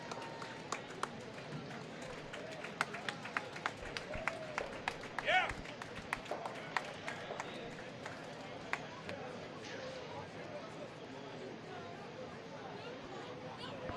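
Light, scattered applause follows the end of a curling game on an indoor rink, soft claps spread across several seconds with quiet crowd murmur behind them.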